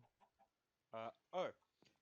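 Chickens in a Minecraft barn give a few soft clucks, then two louder, longer squawking calls close by, separated by short silences.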